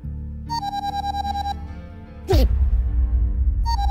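A phone ringtone for an incoming call plays a repeated bright electronic chime pattern, loud and close, interrupted by a sudden swoosh and low rumble before the ringing resumes.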